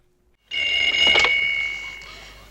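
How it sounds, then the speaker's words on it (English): A telephone rings in the 1970 film The Vampire Doll, one sustained, loud electric bell ring that starts abruptly and slowly fades, heard alone. "her fiance answers the phone"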